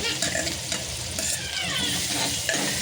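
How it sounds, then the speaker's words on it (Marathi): Crushed garlic and chili paste fry in a pan with a continuous close sizzle. A few scraping stirs sound over the hiss, and nobody speaks. "2 मिनटं यांना चांगलं भाजून घेऊया"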